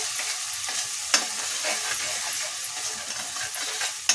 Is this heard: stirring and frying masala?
yes